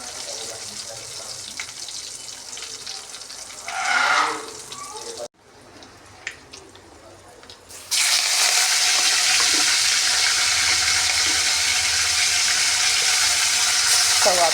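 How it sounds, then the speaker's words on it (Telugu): Shallots, cumin, mustard seeds and dried chillies hit hot tempering oil and sizzle in a steady, loud crackling hiss that jumps up partway through, with faint speech and kitchen sounds before it. "ఇప్పుడు దీంట్లో చిన్నులపాయలు, జీలకర్ర, ఆవాలు ఎండుమిర్చి వేసేసా"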